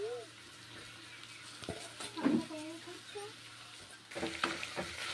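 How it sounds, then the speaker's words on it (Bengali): Pumpkin pieces fry in hot mustard oil with nigella seeds. A quiet sizzle runs under a voice and some stirring clatter, and it grows louder toward the end. "ভেজে নিচ্ছি কুমড়োগুলো গরম তেলে, কালো জিরে ভাজা গরম তেলে সর্ষের তেল দিয়ে রান্না করছি।"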